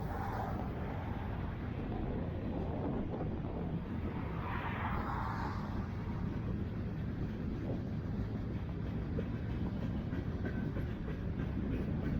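Continuous rumbling of a long Union Pacific freight train with center beam flat cars and covered hoppers rolling by, steady clatter and low roar throughout with no voices.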